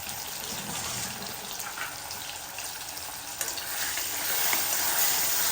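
A paste of ground coconut, green chili, ginger and garlic sautés in a pan with a continuous close-up sizzle and hiss. The sound thickens and grows slightly louder toward the end, with a faint clink of stirring.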